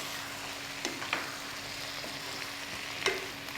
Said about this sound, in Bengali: এটা একটু কম আঁচেই করতে হবে কিন্তু। লেবু আছে, হ্যাঁ, ভাজা ভাজা করতে হবে।